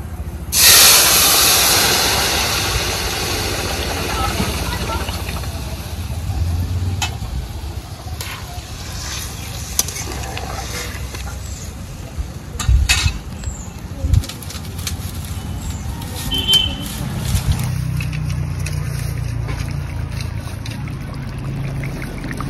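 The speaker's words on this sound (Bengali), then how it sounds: "ফোড়নের উপর ঝোলটা ঢেলে দেব।" Curry gravy poured over hot tempering of black cumin and bay leaves, for a tilapia, eggplant and potato dish, bursting into a loud sizzling hiss that slowly settles into a steady, close crackle.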